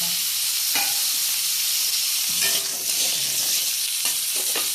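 Potatoes fry in a kadai (wok) while a paneer curry is cooked, giving a continuous hissing sizzle with a few short stirring scrapes and clinks. No one talks over it.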